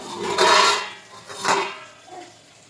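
Metal pots and utensils clatter and scrape as a father cooks rice and dal at home, three brief close bursts of clinking that fade progressively, with no talk over them.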